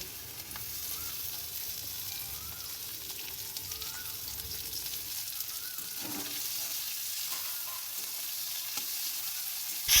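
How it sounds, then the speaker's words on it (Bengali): Potatoes sizzle steadily in hot oil, a constant crackling hiss with occasional scrapes of stirring, close by and with no talking. "আলুগুলো ভেজে নেব"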